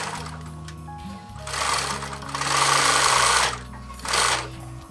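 A sewing machine stitches elastic back and forth onto a canvas bag holder, its loud close mechanical whir coming in bursts with short pauses between runs and a steady low hum underneath.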